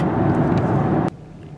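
Volkswagen ID Buzz electric van on a dark, dingy street at night, giving a steady broadband road and tyre rumble that cuts off abruptly near the end, leaving quiet hiss.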